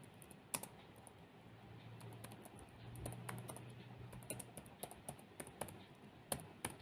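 Typing on a computer keyboard while entering an Excel chart title, a quiet, close patter of irregular key clicks, sparse at first and then more rapid, with no speech.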